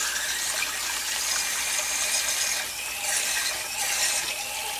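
Hot water runs steadily from a sink faucet being flushed of sediment to fix a sudden loss of pressure, giving a continuous bright hiss and gush close by with no talking.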